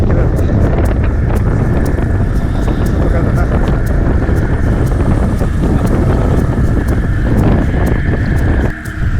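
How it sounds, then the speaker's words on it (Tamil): Strong wind funnels between two mountains at Kannimalai in Anavilasam and buffets hard and continuously against the microphone. The roar is loud and rough throughout, then briefly drops near the end. "சரியான காற்று."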